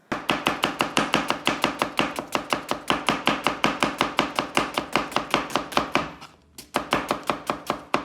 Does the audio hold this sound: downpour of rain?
no